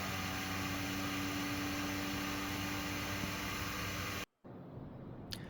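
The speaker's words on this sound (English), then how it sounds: "Vibration compensation helps the printer find its ideal acceleration value." A Flashforge Adventurer 5M 3D printer runs its vibration compensation routine, giving off a loud, steady broadband whir and hum. The noise cuts out abruptly near the end, leaving a quieter machine sound.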